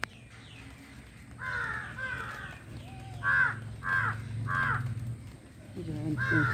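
Several crows caw in a home garden with flowering plants, about half a dozen harsh calls spaced irregularly over a low background hum.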